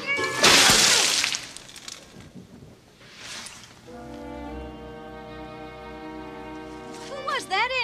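A man in a bad disguise imitates a cat, giving drawn-out meows after an early loud burst of noise, with a hum underneath.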